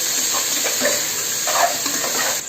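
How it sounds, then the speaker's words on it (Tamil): Mint and coriander leaves sautéing in a pan for prawn biryani, a steady close sizzle with soft scraping stir strokes throughout, no voices. "புதினா கொத்தமல்லி போட்டாச்சு. அப்புறம் கொஞ்சம் வதக்கிக்கலாம்."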